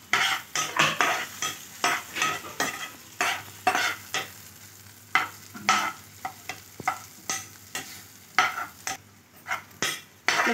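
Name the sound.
stirring spices and chapati noodles in a pan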